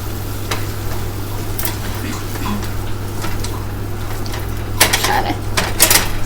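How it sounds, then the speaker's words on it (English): Ground meat is mashed and stirred in a cooking pan, with a low sizzle and scattered scraping and clinking of a utensil against the pan, getting louder near the end. "And now we are going to mash up this meat some more."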